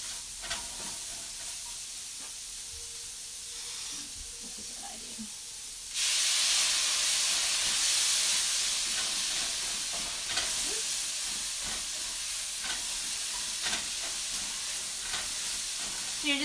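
Vegetables sizzle in a hot pan for a gluten-free Thai stir fry, the frying hiss jumping suddenly louder partway through and then holding steady, with occasional stirring clatter.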